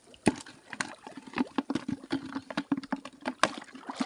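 Water trickles and splashes gently in a small river, soft irregular dribbles and drips sounding close and faint.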